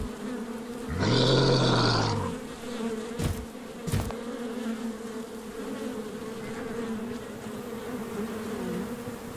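Bees buzzing at a beehive in the video game Die Young: a dense, loud drone swells near the start for about a second, then gives way to a quieter, steady hum, broken by two short sharp hits.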